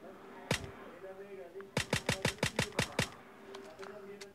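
Gunshots in a mobile shooter game: one sharp shot, then a quick run of about eight evenly spaced shots and a few fainter ones after, over low background game noise.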